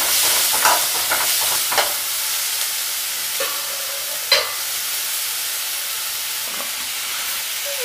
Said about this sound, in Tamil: தக்காளியை வந்து போட்டு நீங்கள் நல்லா வதக்கு